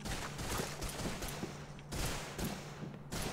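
Heavy battle gunfire in Call of Duty 2, a World War II game set at Kasserine in North Africa: overlapping volleys and bursts come in repeated waves, moderately loud, with no talk.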